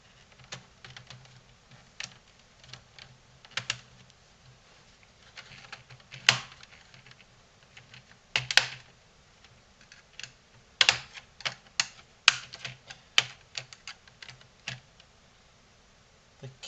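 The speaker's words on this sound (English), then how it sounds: "Looks like the whole keyboard's going to come out from the top." Scattered plastic clicks and snaps while the keyboard of a Dell Inspiron 15-3531 laptop is worked loose and pried off, irregular sharp taps close to the microphone over a quiet low hum.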